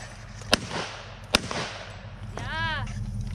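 Two sharp, loud reports from a custom AR15 rifle fired outdoors, spaced under a second apart, followed by a brief whistling, warbling tone; people speak around the shots.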